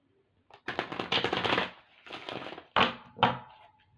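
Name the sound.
shuffling Infinity Oracle tarot cards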